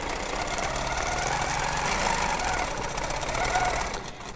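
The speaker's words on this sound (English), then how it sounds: "I'm ready to stitch that again" A sewing machine stitches along a 2.5-inch circle ruler, a steady loud close mechanical whir with fast needle chatter that holds for about four seconds before easing off at the end.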